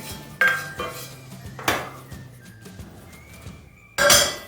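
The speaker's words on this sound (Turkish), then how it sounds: "Şimdi haşlamış olduğum makarnaları döküyorum." Freshly boiled pasta tipped from a pot into a strainer set over a bowl, giving a few loud metallic clatters and splashy bursts with quieter rattling between them.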